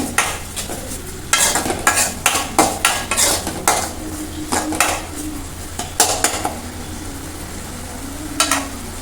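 Tomato rasam ingredients sautéed in a pan, a spatula scraping and clanking against the metal in quick bursts and steady strokes over a faint sizzle, close and fairly loud, with no voices.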